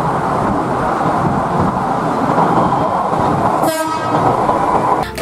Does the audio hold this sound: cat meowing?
no